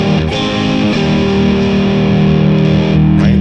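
A loud, distorted electric guitar, a new Fender Player II Stratocaster with humbuckers, rings out with thick, sustained rock chords, struck a few times and left to sustain without any voices.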